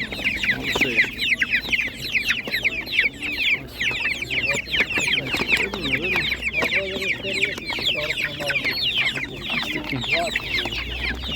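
A flock of Spanish naked neck chickens clucks and chatters continuously nearby at a poultry market, busy overlapping calls with occasional louder squawks.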